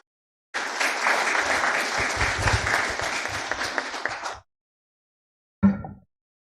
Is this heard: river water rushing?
no